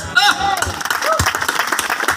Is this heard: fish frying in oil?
no